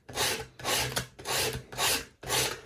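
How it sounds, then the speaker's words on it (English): Bunched-up sandpaper rubbed by hand over wood gives five steady, rhythmic rasping strokes, each a close, dry scratch with short pauses between. "Bit of sandpaper. I'm using it bunched up because I don't have a sanding block."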